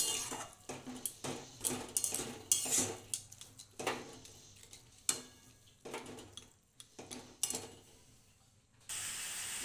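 Grated coconut and jaggery stirred in a pan over a low gas flame for a sweet filling, with close, irregular scrapes and metallic clinks of the utensil against the pan and no one speaking.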